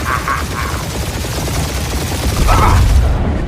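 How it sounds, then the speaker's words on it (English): Rapid bursts of gunfire and booming blasts rattle continuously during a firefight in Marvel's Guardians of the Galaxy, loud and dense with no letup, while brief voices cut in over the shooting. "We're taking fire!"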